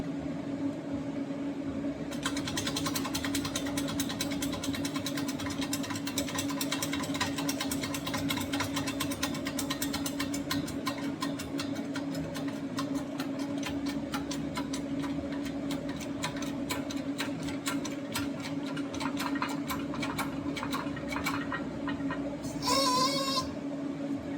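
Welding tubes for a custom turbo manifold: a steady buzzing, crackling arc hum that runs continuously at moderate loudness, with a brief clatter near the end and no talk.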